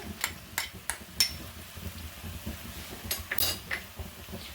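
A spoon clinks and scrapes against a metal pot while green chili paste is stirred into white chicken kadahi, several sharp taps spaced irregularly over soft scraping, close and alone.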